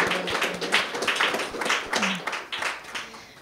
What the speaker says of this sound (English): Can we get another round of applause for Mike?